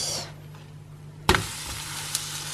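A crêpe cooking in a pan hisses softly, then is flipped, giving a sudden sharp thump and a fresh, louder sizzle that keeps crackling close by.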